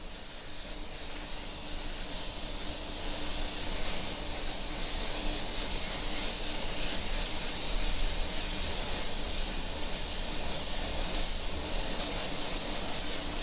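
Spray gun laying a light transparent coat over silver paint on a car, a continuous close airy hiss that holds steady throughout with no talking.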